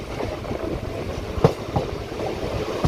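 A Chennai suburban local train pulling slowly into a station at night, a steady rolling rumble with soft rhythmic wheel clacks and a sharp clank midway, close and continuous.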